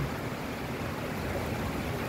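Strong wind and heavy rain during a storm roar as a dense, steady broadband rush filling the whole clip, loud and close with no talk over it.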